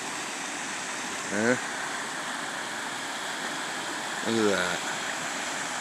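Steady broadband rush of a waterfall at Stovepipe in Maine, a constant close wash of falling water filling the background while a voice speaks briefly twice.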